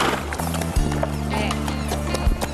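A ridden horse at a riding lesson clip-clops along, with one brief whinny, over sustained background music in a Cuban TV drama.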